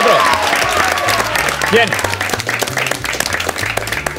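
An audience at a Spanish-language TV show applauds loudly and steadily, with music playing underneath and a voice briefly speaking over the clapping.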